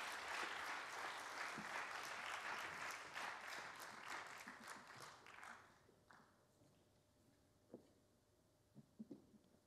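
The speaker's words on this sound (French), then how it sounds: "Faut applaudir mes mon Chris et Raph." An audience claps in a faint, distant burst that thins after about five seconds into scattered claps, light taps and a few footsteps.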